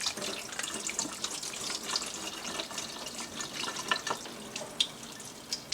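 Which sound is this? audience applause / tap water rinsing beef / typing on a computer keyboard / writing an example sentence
tap water rinsing beef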